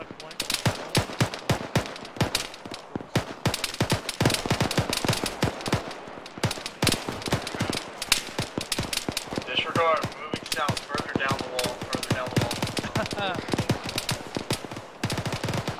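Machine gun fire during a military field training exercise, with dense, rapid bursts of loud, sharp reports repeating almost nonstop and voices heard between volleys.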